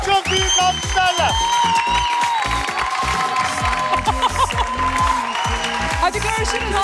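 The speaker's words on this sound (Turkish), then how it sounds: "Çok çok büyük alkışlarla." Studio audience on the Turkish game show Var Mısınız Yok Musunuz claps and cheers loudly and steadily, with whoops and a music bed underneath, the applause holding strong the whole time.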